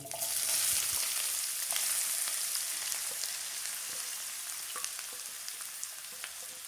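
Dry red chillies and nigella seeds tempering in hot oil, a bright continuous sizzle that spits loudly at first and settles into a steady crackle, close and alone.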